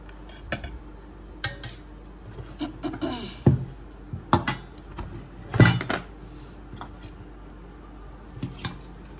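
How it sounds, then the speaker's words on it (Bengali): Curry being served into bowls at a home meal, with scattered clinks and knocks of a spoon against dishes, some sharp and close, others softer, spread irregularly with quiet gaps between. "বাটিতে তরকারি দিয়ে দিই সবাইকে"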